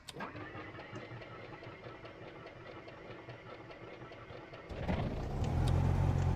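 A Cessna 172 Skyhawk piston engine in X-Plane 12 runs with a steady rough chug, then catches louder near the end, settling into a stronger idle rumble. No talking.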